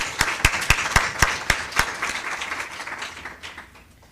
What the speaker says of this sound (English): Can we give them a round of applause for...